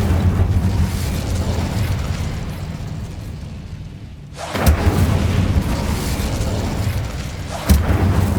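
In the video game Hogwarts Legacy, the Incendio fire spell erupts in a loud fiery boom after a low rumbling lull, followed by another sharp burst moments later.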